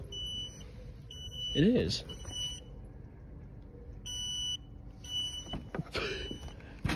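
A smoke alarm beeps in a room with steady, evenly spaced high-pitched chirps that run through most of the stretch, while someone talks over them nearby.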